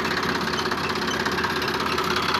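A steady diesel chug comes from a Sonalika DI-35 tractor engine with a Bosch inline fuel pump, running close by with an even, knocking rhythm and no talking over it.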